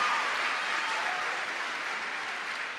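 Applause from a seminar audience fills the space, a dense, steady wash of many hands clapping at moderate distance, holding without a break.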